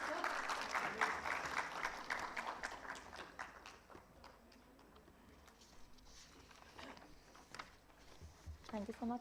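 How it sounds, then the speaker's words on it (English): A conference audience at a summit breaks into loud applause, a dense clatter of clapping that fades slightly and then swells again, with a voice briefly audible over it. "Ladies and gentlemen, can we have a huge round of applause"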